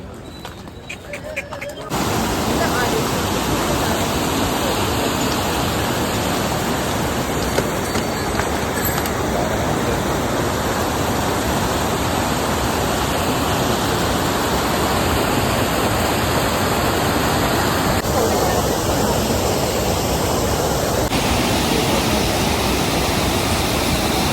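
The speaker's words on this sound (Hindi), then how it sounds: "माँ यमुना नदी की आवाज़ को सुन सुन के जाते हुए" The Yamuna river rushing at Yamunotri in the mountains, a loud, dense, unbroken roar of fast-flowing water that fills the whole stretch after a brief quieter opening, with no voices over it.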